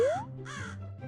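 In an animated fable, a crow gives two harsh caws close up, with a brief rising whistle before them and a soft musical bed underneath.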